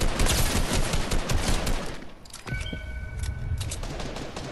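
Rapid gunfire fills a Fortnite-style battle royale video game, with dense bursts of shots that briefly thin out midway before the firing picks up again, loud and continuous.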